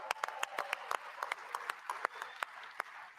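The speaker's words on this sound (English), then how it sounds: "Round of applause." Scattered applause from a small audience at a live Adobe Summit Sneaks contest session, sparse, uneven claps over a low crowd murmur, fairly faint and steady throughout.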